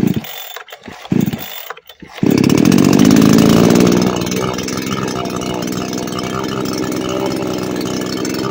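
An AGM 5400 chainsaw being pull-started: a few short rough pulls and sputters, then the engine catches and roars loudly, settling into a steady high idle.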